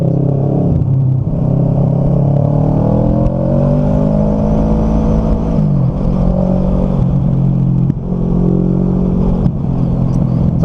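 A big motorcycle engine rumbles loudly on the road, its pitch rising and falling as it revs, with steady road noise and no talk throughout.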